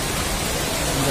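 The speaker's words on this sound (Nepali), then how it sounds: "झरना छ अरे" A waterfall at the Darjeeling Rock Garden roars in a steady, dense broadband rush, close and loud, continuous for the whole moment.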